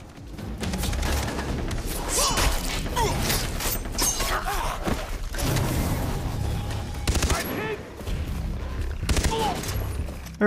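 Enemy gunfire in Far Cry 3, rapid repeated shots and clattering mechanical bursts over a loud, continuous firefight, with a voice occasionally speaking under the noise.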